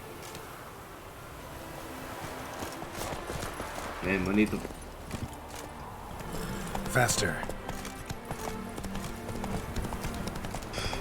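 Video game horse hooves clip-clop at a steady trot, with a couple of louder bursts partway through, while a person talks over the footsteps.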